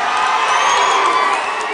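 A large crowd cheers and shouts in a steady, loud roar, a dense wall of voices and whoops that swells continuously at a fan gathering, with little distinct clapping standing out.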